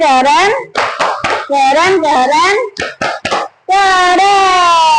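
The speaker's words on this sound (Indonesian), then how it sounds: "yuk kita kasih tepuk apresiasi ya, itu tepuk keren" Children perform the 'tepuk keren' appreciation clap, sharp rhythmic hand claps in quick bursts interleaved with loud chanted young voices, close and energetic.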